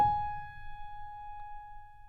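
One soft, sustained tone from the melody rings alone and faint, holding steady for around two seconds as it gradually fades.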